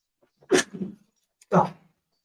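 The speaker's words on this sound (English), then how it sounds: "It was an actual sneeze." Two short, sharp bursts about a second apart, the first a sneeze-like burst with a trailing breath, close to the microphone.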